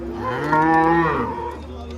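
A single cow gives a loud, close moo lasting about a second and a half at a livestock market, with steady crowd background around it.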